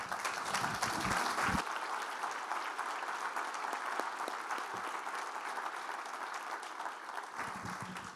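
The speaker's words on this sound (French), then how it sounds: "je pense que les gens vous applaudissent" Applause from the audience at a 2022 renewable energy conference in Quebec, steady and sustained for several seconds, with no voices over it.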